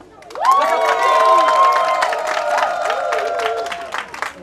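An audience at a ceremony breaks into applause and cheering, starting abruptly, swelling into loud sustained clapping with whoops, then tapering off toward the end.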